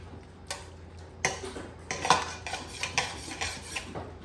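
Tomatoes deglazing a hot pan, with a run of close utensil scrapes and clinks against the metal, several sharp strikes spaced irregularly over a faint background hiss.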